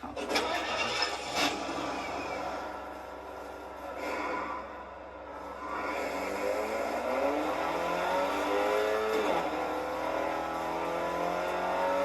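Engine of a car in the video game Fortnite, a steady synthetic motor drone that revs and rises in pitch as the car accelerates, fairly faint and continuous throughout.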